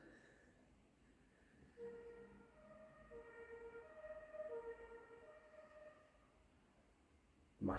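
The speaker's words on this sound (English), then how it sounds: "My fire engine's going now." A fire engine siren sounds faint and distant, its tonal wail rising and holding over quiet room noise. A sudden sharp knock comes at the very end.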